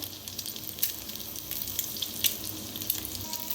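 An egg fries in a hot pan with a continuous bright sizzle and scattered crackles and pops, close and steady throughout.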